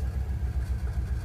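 A Dodge engine runs low and steady right after the key is turned, a brief close rumble with a throbbing idle pulse.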